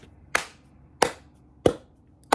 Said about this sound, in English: He deserves a clap.